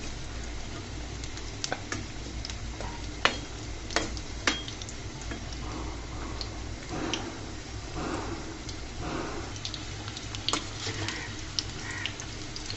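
Kurkura snack dough frying in a small pot of hot oil, a steady bubbling sizzle with scattered sharp pops and crackles throughout, close and fairly quiet, no talking.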